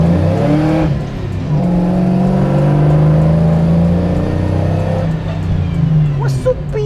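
A 1970 Chevelle Pro Touring car has its engine revved up in a workshop. It makes a loud, close rumble that climbs and holds at a higher pitch for several seconds before easing off, and voices are heard around it.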